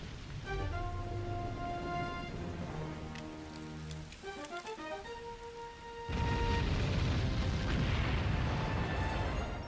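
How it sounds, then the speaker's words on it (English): In The Wind Waker, the Molgera boss explodes in a puff of smoke: a descending run of game music tones gives way to a loud, sustained roaring burst of noise that stays steady to the end. "After landing enough hits on the monster's tongue, it takes to the air one last time before exploding in a puff of smoke."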